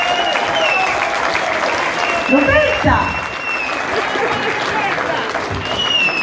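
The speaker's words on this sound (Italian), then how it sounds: "Un grande applauso per questa bravissima." Audience applause for a young girl singer at a live Italian TV show, steady clapping across the whole stretch with a host's voice calling out over it.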